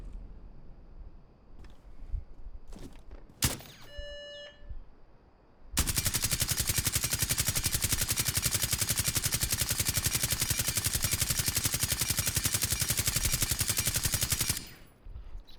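Suppressed automatic gunfire from Rainbow Six Siege, a long continuous burst of muffled rapid shots lasting about nine seconds, preceded by a few clicks and menu beeps, no voices.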